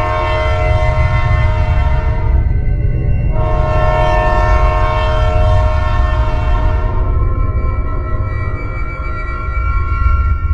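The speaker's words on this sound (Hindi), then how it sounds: "ट्रेन स्टार्ट हो जाती है।" A cartoon train begins moving, with a loud, low rumbling hum of the engine running continuously beneath a long two-part horn blast, close and strong throughout.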